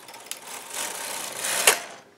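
A home knitting machine carriage runs across several rows of waste yarn, a close, steady mechanical whirr and rattle with one sharp click near the end, no voices.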